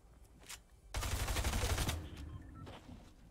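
Heavy automatic gunfire erupts in a Fortnite match, a dense rattling burst lasting about a second, then tapering into scattered lighter shots and game noise.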